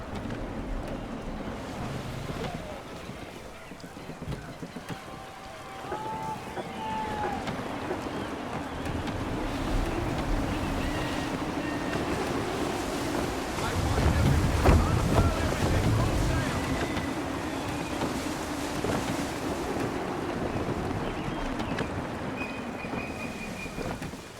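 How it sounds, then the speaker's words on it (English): Gusty wind sweeping across the open sea in Assassin's Creed III, a steady roaring rush with wave wash and creaking ship sounds beneath, swelling louder midway, with faint voices talking in places. "Gusty winds can be difficult to manage."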